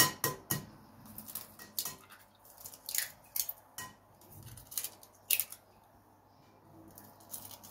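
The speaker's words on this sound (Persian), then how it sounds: "شروع می‌کنیم تخم مرغ رو شکوندن" Eggs cracked one after another into a bowl set over a bowl of hot water while making a coffee cake: a run of sharp, close knocks and clinks against the bowl, with faint wet drips between them.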